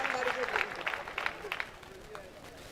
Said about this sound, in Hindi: जरा पूरा सदन एक बार तालियां बजा करके बताया